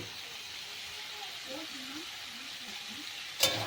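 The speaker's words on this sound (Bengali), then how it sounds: "এখন আমি সব সবজিগুলো এর ভেতরে দিয়ে দেব" Mixed winter vegetables hit spices fried in oil and give off a faint, even sizzle. A soft voice murmurs beneath it, and one sharp click of a utensil sounds near the end.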